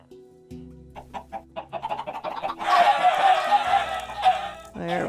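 Chickens in a video game cluck in quick bursts that build into loud, overlapping squawking and clucking, close by, over steady low tonal background music.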